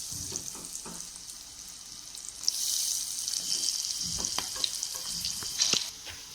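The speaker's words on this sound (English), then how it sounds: "Oil got heated up. Now I am going to add the sweet corns." Sweet corn frying in hot oil in a pan, a soft crackle early on that swells into a steady hissing sizzle, with occasional light pops and clicks over it.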